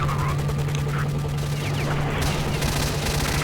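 Gunfire from the video game S.T.A.L.K.E.R. Shadow of Chornobyl, a steady loud rattle of shots and bursts filling the whole stretch, with a voice talking over it.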